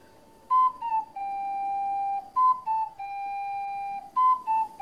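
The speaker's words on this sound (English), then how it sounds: "It's the Epona song!" Epona's Song played on an ocarina in a Zelda video game, a clear whistle-like melody repeated three times, each phrase rising then settling into a long held note, fairly soft and alone with no talking.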